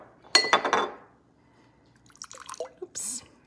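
Rice vinegar poured into a measuring spoon, a brief run of trickling, dripping liquid with glassy clinks, then a quiet gap followed by softer scattered drips and clinks of kitchenware.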